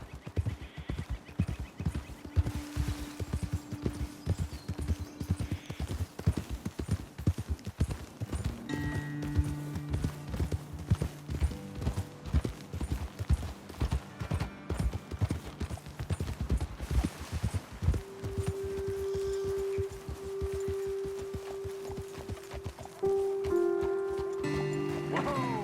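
Steady clip-clop of horse hooves from the video game Red Dead Redemption 2 goes on throughout at a walking rhythm, close by, with music and voices underneath.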